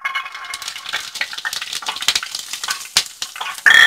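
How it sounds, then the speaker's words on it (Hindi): Garlic dropped into lightly heated oil for a garlic vinegar pickle sizzles and crackles close up, with stirring and scraping sounds throughout and a brief utensil clink near the end. "पहले तेल को हम हल्का गरम कर लेंगे। अब इसमें लहसुन डालेंगे।"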